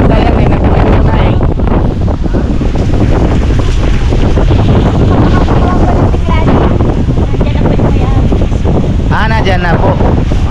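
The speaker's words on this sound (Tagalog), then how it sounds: "kahit nasa loob kami dito, malakas pa rin yung hangin" Strong gusty wind roars and buffets straight into the microphone for the whole stretch, loud and continuous, with people talking faintly beneath it.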